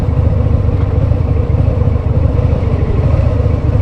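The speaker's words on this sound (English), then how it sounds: "listening to the engine here" A 2023 Harley-Davidson Sport Glide 107 motorcycle engine runs loud and close, a steady low rumbling throb with a continuous pulsing texture throughout and no speech over it.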